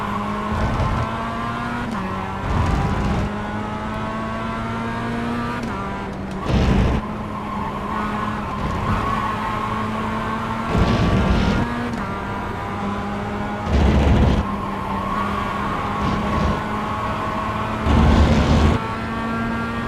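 Race car engine droning steadily through a racing video game, its pitch stepping up and down with gear changes, broken by several short bursts of tire squeal and skidding at roughly regular intervals.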